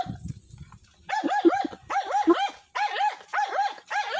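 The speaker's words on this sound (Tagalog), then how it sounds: "Ingay ang aso." Dog barking repeatedly in a rhythmic series of loud, close barks with a few whimpering yips, preceded by a brief softer sound.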